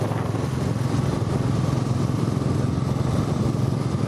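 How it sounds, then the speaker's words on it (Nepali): A motorcycle engine drones steadily while riding, a loud, continuous rumble up close with no break and no speech. "बाइकमा जाँदैछौँ"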